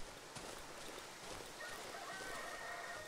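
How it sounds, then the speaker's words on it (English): Chicken clucks come through faintly in the dark survival horror game Darkwood, a few thin bird calls over a low, steady ambient bed with a soft thump near the start, and no one speaking. "I hear a chicken."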